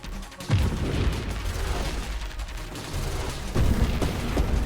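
Ship weapons fire continuously at a boss in the space shooter Nova Drift, a dense stream of rapid blasts and booming impacts with louder surges near the start and end.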